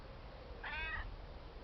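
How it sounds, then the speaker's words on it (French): A cat lets out a single short meow, faint and a little distant, over quiet room noise. "Tranquillou le chat."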